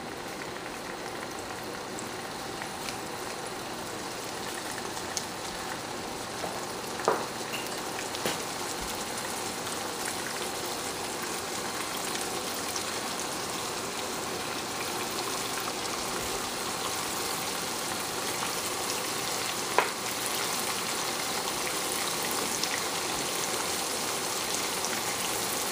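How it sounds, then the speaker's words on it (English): Chicken with an onion, ginger and garlic mixture frying in a pan, giving a steady, dense sizzle with scattered pops and crackles that runs unbroken for the whole stretch. "I wanna make sure that I fry the chicken and this onion and ginger garlic mixture really, really well"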